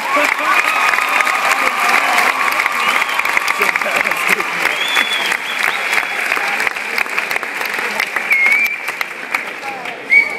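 An audience at a magician's show claps loudly and continuously, with scattered cheers and children's shouts mixed into the steady applause, close and dense throughout.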